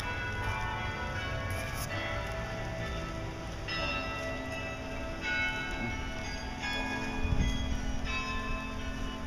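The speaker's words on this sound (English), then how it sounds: "Man, that bell just keeps on going." A bell keeps ringing on and on outdoors, its long layered tones stacking into a steady shimmering wash with fresh strikes every few seconds, carrying on without pause and without anyone speaking.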